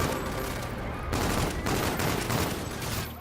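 A dense, unbroken barrage of automatic gunfire from the Call of Duty: Infinite Warfare video game, a loud, roaring wash of overlapping shots that continues for the full length with no pause.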